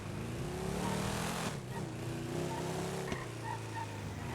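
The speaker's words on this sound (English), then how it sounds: "this car does not sound healthy" A rough, steady car engine in the video game GTA drones throughout at moderate loudness, with a slight rise and fall in pitch and a brief sharp knock partway through, the car sounding unhealthy.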